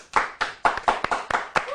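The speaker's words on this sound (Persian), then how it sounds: "بچه‌ها یه دست براش بزنی." Scattered, uneven hand claps from a small crowd at a comedy concert, about seven distinct loud smacks spaced irregularly, with no voices over them.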